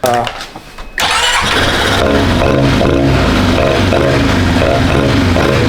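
A four-wheeler engine cranks and catches, then roars into a loud, steady rumbling idle close by, with voices briefly audible at the start.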